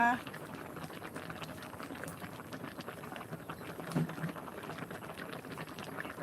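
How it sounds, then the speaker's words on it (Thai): A pot of Thai mushroom curry bubbling at a boil, a continuous soft popping and blubbing close by, with someone talking over it. "เดือดบุบๆุบเลยนะ"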